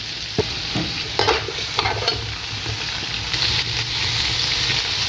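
Onions frying in a mug of oil in a pot, a continuous loud sizzle with scraping spoon strokes as they are stirred, the start of a mutton balti gosht.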